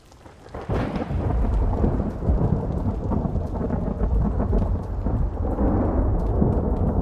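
A thunderstorm with rain in the survival game Vintage Story: a deep rumble of thunder rolls in and heavy rain hisses steadily, loud and continuous with no voices.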